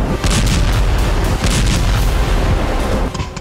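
Loud, continuous barrage of explosions and artillery fire from the Russia–Ukraine war, a dense rumbling roar of overlapping booms and blasts sustained throughout with no speech.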